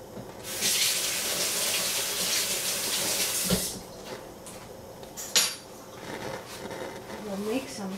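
A kitchen tap runs water into a pan, a loud close rush that stops abruptly, followed by clinks of cookware and a voice speaking.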